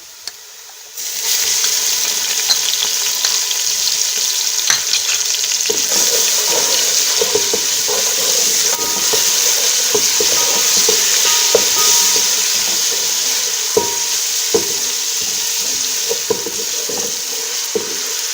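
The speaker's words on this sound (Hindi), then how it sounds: "अब मैं डालूँगी ये अदरक लहसुन का पेस्ट।" Loud, steady sizzle of ginger-garlic paste frying in a hot pan, with occasional stirring scrapes and small pops throughout.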